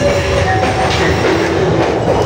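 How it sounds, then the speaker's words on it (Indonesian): Malabar economy-class passenger train running from Malang to Bandung, a steady loud rumble of rolling wheels and carriage noise with faint rhythmic clatter, continuous and close throughout. "Jadi nama keretanya Malabar, kereta api Malabar dari Malang sampai Bandung."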